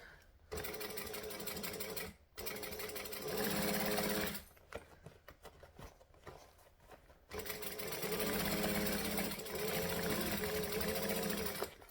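A sewing machine stitches fabric for a circle bag in fast bursts, a close rhythmic mechanical chatter broken by short pauses and a longer gap midway before resuming.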